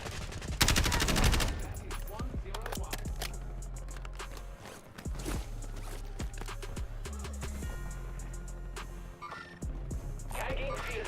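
Video game firefight with dense bursts of rapid gunfire, loud and close, mixed with impacts and footsteps; a clipped radio-style voice calls out over the shooting.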